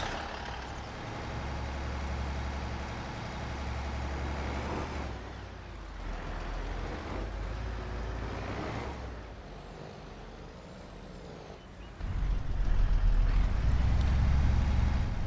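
A service truck in Farming Simulator 25 rumbles as it is worked loose, with a steady engine drone that dips and strains for several seconds, then surges louder near the end as the motor powers up.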